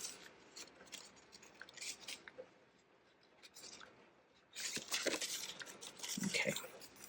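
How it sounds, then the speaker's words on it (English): Small baby scissors cut two holes in a craft piece, giving scattered snips and crisp rustling close up, louder and busier toward the end. "So what I'm going to do is I'm just going to cut 2 holes in here."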